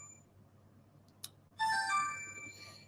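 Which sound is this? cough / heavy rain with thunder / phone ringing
phone ringing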